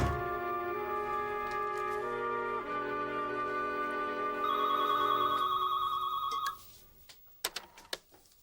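A telephone bell rings steadily in a domestic scene from a children's TV drama, layered over sustained music tones; the ringing cuts off near the end, leaving a few sharp knocks.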